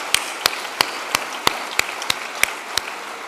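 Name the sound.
audience applause for the volunteers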